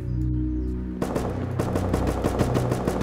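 Sustained rapid gunfire from an M2 heavy machine gun in the video game Rust erupts after a moment of low rumbling, a loud burst rattling steadily with sharp repeated shots.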